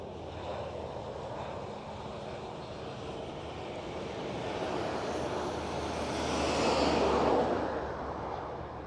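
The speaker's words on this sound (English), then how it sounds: "KLM City Hopper E190 taxiing in front" A KLM City Hopper Embraer E190 airliner taxis at Amsterdam Schiphol, a broad steady jet rumble and roar that swells as it passes nearby, with wind noise over the microphone.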